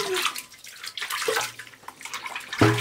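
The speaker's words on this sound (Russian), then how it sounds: "Маруська, сейчас чистой водичкой ополоснешься и побежишь дальше." Water splashes and pours as an animal is rinsed with clean water in a farm setting, soft intermittent sloshing and trickling at close range with a brief louder splash at the end.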